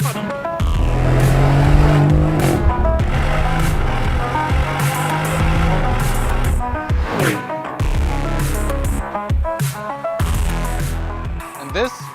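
A 2025 Lamborghini Urus SE driven hard in Corsa performance mode, its engine revving and shifting loudly with rising and falling pitch throughout, close and dominant.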